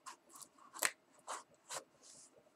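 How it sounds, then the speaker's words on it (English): Scissors cutting packing tape off a box: a handful of sharp, close snips in an uneven rhythm, quiet overall, with brief pauses between cuts. "I'm gonna cut this tape off"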